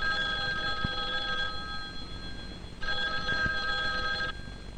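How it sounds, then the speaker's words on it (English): An old telephone bell rings in two long bursts separated by a pause, fairly faint and alone with no talking. "One day, a telephone rang."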